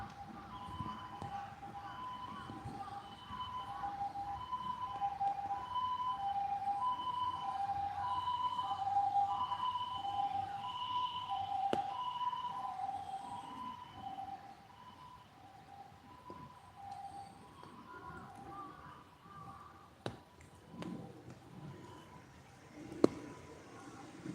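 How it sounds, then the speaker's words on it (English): A distant ambulance siren wails in a repeating two-tone pattern for several seconds, then fades, over a quiet, cold, rainy outdoor background in Tokyo with a few sharp clicks. "Ambulance is driving somewhere."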